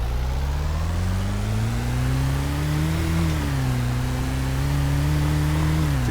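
A car engine in the video game Desert Sandbox revs steadily throughout, its pitch climbing briefly midway before settling into a sustained mid-range drone, with no talking.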